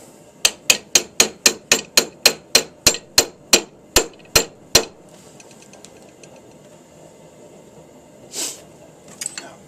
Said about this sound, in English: Grab the hammer.